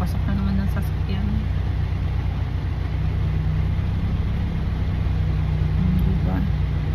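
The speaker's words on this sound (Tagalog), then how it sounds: "Ayan na naman, may papasok na naman ng sasakyan." A vehicle pulls in during heavy rain, its steady low engine rumble and idling drone running throughout beneath the constant hiss of rainfall, with a voice talking over it.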